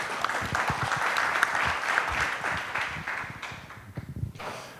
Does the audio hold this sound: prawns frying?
no